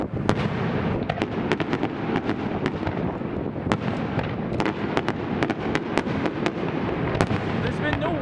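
Loyalist Day fireworks display in Saint John, New Brunswick: rapid loud cracks and booms burst in quick succession over a continuous crackling roar, with crowd noise and people talking underneath.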